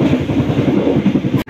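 Motis Tengah passenger train heading east at Manahan, wheels rolling on rails with a steady loud rumble and rhythmic clatter close by, cutting off abruptly near the end.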